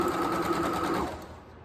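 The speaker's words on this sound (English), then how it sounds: "We're gonna start sewing slowly and then backstitch." A sewing machine stitches ruffle socks made with tulle, running at a slow, steady pace in a continuous mechanical whir that eases off near the end, heard on its own.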